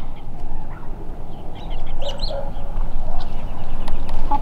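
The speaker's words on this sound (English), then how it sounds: "That banny rooster right there just had a hold of that laying hen trying to breed her." A small bantam rooster and larger laying hens in a backyard flock cluck and murmur, several short close calls scattered over steady outdoor background noise, with no voices.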